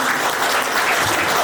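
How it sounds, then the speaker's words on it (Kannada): Loud, dense applause fills a book launch hall, an audience clapping steadily for a moment without any voices over it. "ಜೋರಾದ ಚಪ್ಪಾಳೆಯೊಂದಿಗೆ ಇದೀಗ"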